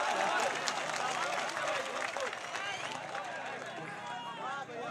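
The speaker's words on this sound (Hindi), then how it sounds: "अगर बात अच्छी लग जाए तो तालियों से एक बार हौसला अफजाई कर दें।" Audience applause at a mushaira poetry recital in Ahmedabad, a continuous, fairly distant crackle of many hands clapping that holds steady throughout and tapers only slightly near the end.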